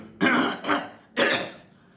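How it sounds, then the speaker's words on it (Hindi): A person clears the throat forcefully, hawking to shift phlegm, in three harsh guttural bursts, two close together and then one more after a short pause, loud and near with no talk. "कुछ लोग खखारते रहते हैं, मतलब वो ऐसे करते रहते हैं।"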